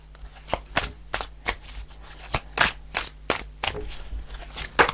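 Tarot cards are shuffled and riffled by hand in a quiet room, a run of sharp papery snaps and flutters in uneven bursts, close and fairly soft.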